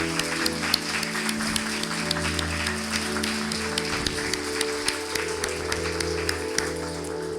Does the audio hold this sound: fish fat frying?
no